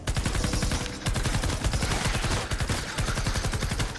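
Continuous rapid automatic gunfire from a Fortnite Save the World match against a swarm of husks, loud dense bursts of shots running almost unbroken throughout.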